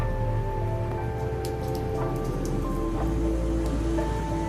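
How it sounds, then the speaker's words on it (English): Steady rain falling outdoors on a spring day, a dense continuous patter of drops on surfaces throughout, moderately loud with occasional brighter drip ticks and no talking. "We finally got rain after a few weeks without."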